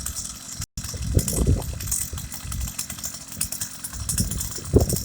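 A small two-stroke engine on a motorised bicycle runs steadily after warming up, a close, continuous rattling drone with uneven bursts and pulses throughout.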